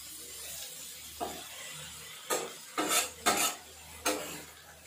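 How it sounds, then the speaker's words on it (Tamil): Country chicken being roasted on a dosa griddle and pressed down with a ladle, giving a few sharp metallic scrapes and clinks over a faint sizzle, spaced irregularly and fairly close. "இந்த மாதிரி ஒரு கரண்டி வச்சு நல்லா அழுத்தி அழுத்தி விடணும்"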